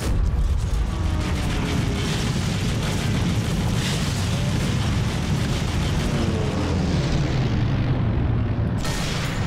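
A vehicle blows up in the video game Sniper Elite 3, a loud sustained explosive roar and rumble that fills the whole stretch before cutting off sharply near the end.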